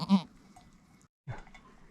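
A large goat gives two short bleats close by, separated by a brief pause, in a quiet farm setting where kids are being born.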